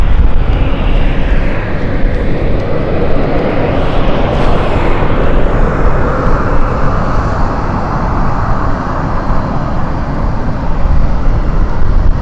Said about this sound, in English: C-17 going over us.